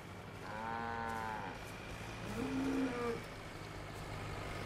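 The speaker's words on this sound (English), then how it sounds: "These are all cows." Cows in the video game Far Cry 5 moo twice, a long low bellow followed by a shorter, higher call, moderately near over a steady ambient game hum.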